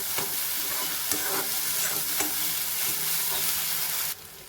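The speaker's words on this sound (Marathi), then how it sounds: "जरा गॅस मोठा करून आता हा हे जे कॉर्न आहे ते छान परतून घ्यायचे" Corn kernels sautéed in a pan over a high flame give a steady sizzle with repeated scraping stirs, close and continuous with no talking, then drop suddenly near the end.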